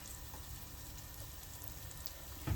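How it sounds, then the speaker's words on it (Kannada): Sweet potato wraps fry in hot oil, a soft, steady sizzle and crackle close by, ending in a brief louder clatter. "ಎಣ್ಣೆ ಕಾದಿದೆ, ಒಂದೊಂದೇ ಹಾಕ್ಕೊಳ್ತೇನೆ."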